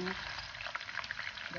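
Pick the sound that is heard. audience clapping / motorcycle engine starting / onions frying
onions frying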